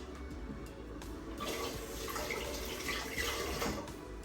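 Steady running tap water splashing over a few pieces of food being rinsed while Jamaican stew peas are cooked, a continuous close sink rush with faint drips and no talk.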